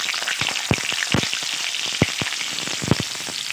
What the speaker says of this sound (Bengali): কয়েক পিস আলু ভেজে নেব।